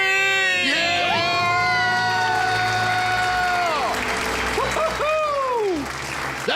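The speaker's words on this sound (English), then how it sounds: "Let's hear a debt-free scream." A small group screams and cheers in celebration of becoming debt-free, with loud overlapping shouts and whoops rising and falling, then a burst of applause and excited voices.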